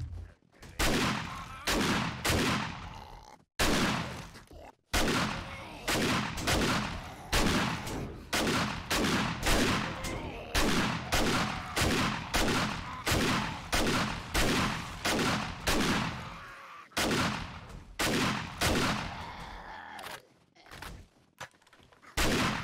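Shotgun blasts in the video game 7 Days to Die fire in a long, steady series of sharp, loud booms, each with a short decay, broken by a few brief pauses between volleys.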